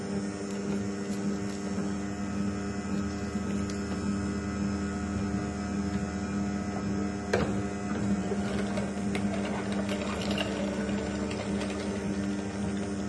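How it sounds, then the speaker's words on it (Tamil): A masticating juicer's motor runs continuously with a low, steady whirring hum and faint mechanical ticks, heard alone at close range. "நீங்கள் தேட வேண்டியதெல்லாம் ஒரே ஒரு விஷயந்தான், மஸ்டிகேட்டிங் ஜூஸர்."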